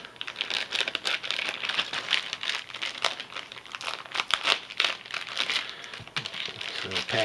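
Plastic packaging for a catfishing planer bobber is torn and crinkled open by hand, a close, busy run of crackling rustles and crunches that continues throughout.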